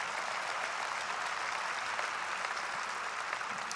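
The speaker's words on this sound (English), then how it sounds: "of course, applaud." An audience claps steadily at a public memorial service in Winnipeg, a dense, even wash of applause filling the hall for the whole stretch, with no voices rising above it.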